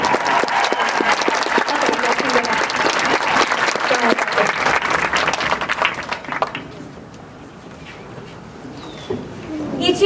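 Students at a school concert clap together in a dense, steady burst of applause that fills the first six seconds, then thins out into quieter scattered sound near the end.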